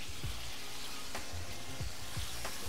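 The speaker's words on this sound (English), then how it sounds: "Hear that sizzle?" Chicken breast sizzling in a frying pan for an orange stir-fry, a steady crackling hiss with occasional pops and scrapes as the pieces are stirred.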